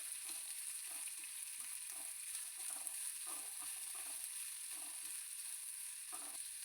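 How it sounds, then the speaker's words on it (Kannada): Chopped onion fries in a pan for a homemade bakery-style sandwich filling, giving a steady, close sizzle with faint intermittent stirring scrapes throughout and no voices. "ಇದು ಸ್ವಲ್ಪ ಫ್ರೈ ಮಾಡ್ಕೋಬೇಕು."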